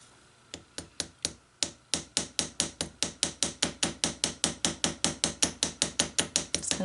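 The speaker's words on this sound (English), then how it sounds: "I'm going to very, very lightly tap it, and then open it up and do it again. This is just a little riveting hammer." A small riveting hammer lightly tapping a rivet on a hinge, a long series of crisp, evenly spaced metallic taps that start sparse and settle into a steady, quickening rhythm, close and clear with no talk.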